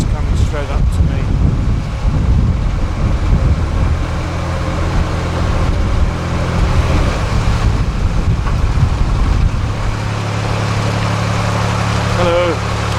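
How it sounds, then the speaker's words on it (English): Strong gusts buffet the microphone while a narrowboat is steered on a canal, a steady loud roar of wind with low rumbling throughout, and a boat engine droning beneath it. "It's getting very windy now"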